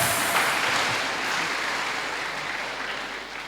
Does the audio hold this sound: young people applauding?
yes